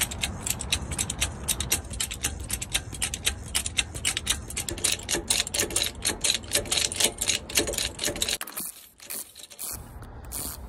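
A yellow two-stage Ford bottle jack for a Super Duty pickup is pumped to raise the front axle, giving steady rapid ratcheting clicks and mechanical ticks close up, continuing for several seconds before a brief pause.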